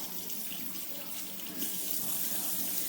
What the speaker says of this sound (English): make sure you rinse off the apple